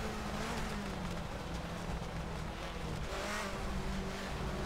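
A 1990s DTM race car in Assetto Corsa screams at high revs, holding a dense, steady engine roar that bounces off the rev limiter, with faint tire noise underneath and no talk.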